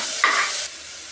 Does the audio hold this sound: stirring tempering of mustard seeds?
yes